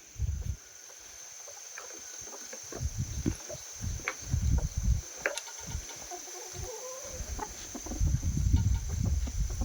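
Decoy fighting roosters cluck in short, uneven bursts close by, with some louder calls, over a steady high-pitched background hum and no voices.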